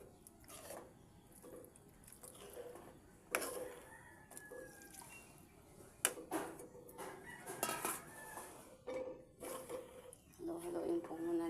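Corn simmering in broth is stirred in a pan, a utensil scraping and clinking against the pan in irregular bursts, faint and close, with occasional kitchen clatter.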